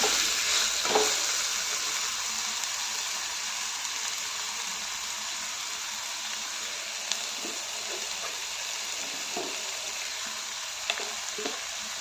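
Potatoes sautéing in oil in a pan for a halwai-style potato curry with onion and tomato, a steady broadband sizzle that runs throughout with occasional soft stirring clicks and scrapes, close and even, without any voices.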